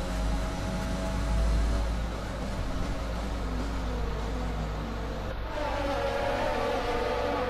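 Red Bull Formula 1 car engine in the F1 2020 video game at the Austrian Grand Prix, a steady loud droning whine with shifting pitch that holds throughout without a break.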